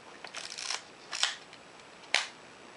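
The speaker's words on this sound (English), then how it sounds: "the shutter stays open as long as I hold the button down" Exakta Twin TL film camera fired on its bulb setting: a soft mechanical shutter opening, a held pause, then a second brief release click, with a sharper isolated click shortly after, close and quiet in a still room.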